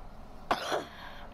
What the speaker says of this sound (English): Coughing and shit.